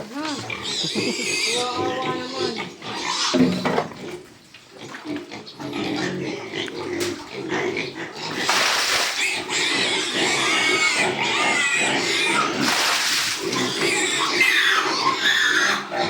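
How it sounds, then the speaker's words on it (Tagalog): A pig grunts and oinks, breaking into loud, sustained squeals in the second half, close by, with people talking over it. "Magbabahog po ang aking inay ng baboy"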